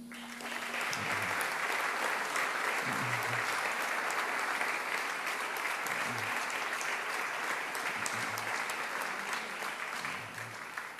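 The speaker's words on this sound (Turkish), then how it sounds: "Evet demin kadın futbol takımını alkışladık." An indoor audience applauds the women's football team with sustained, dense clapping that stays loud and even throughout, with faint low tones beneath it.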